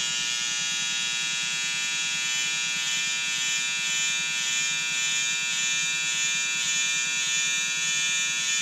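Brown all-in-one hair clippers marking a hairline shape-up on the sides, a steady close electric buzz that holds constant without pause.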